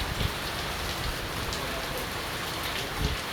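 Steady rain falls in a dense, continuous hiss with drops pattering on a nearby surface, heard alone and fairly close.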